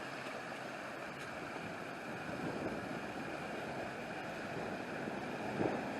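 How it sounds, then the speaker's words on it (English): A small waterfall in the downtown of Helen, Georgia, a Bavarian-style village, gives a steady rushing wash of falling water, continuous and moderately loud, with faint wind and no talk. "there's a small waterfall right here in downtown"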